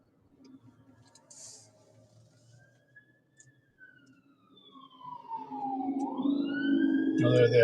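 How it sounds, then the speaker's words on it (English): Emergency vehicle sirens wail faintly in the distance, then swell and grow loud as they approach. Talk from inside a vehicle comes early on. "where the fuck are the sirens coming from?"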